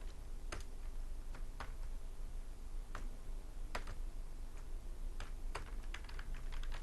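Keys on a computer keyboard are tapped in short, irregular bursts while numbers are entered into a division program, each keystroke sharp and close over a steady background hiss.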